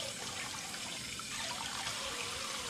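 Celery stalks rinsed under a steady stream of tap water in a wash bin, a continuous close splashing rush with no talking.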